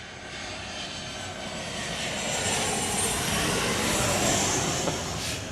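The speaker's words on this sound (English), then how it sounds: "We do have another flight that is arriving." A jet aircraft arriving at Chicago O'Hare during storm weather makes a steady, loud engine roar that builds gradually and holds, with no voices.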